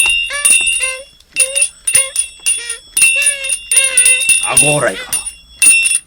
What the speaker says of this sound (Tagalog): Tapagunyag na ito'y kampanilya.